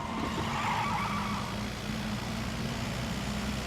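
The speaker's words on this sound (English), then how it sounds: "Got some tyre squeal now, which is pretty cool." Car tyres squealing in PUBG, an old rusty 2-litre diesel car skidding with a continuous engine drone and a broad smeared screech, steady and close, with no talk.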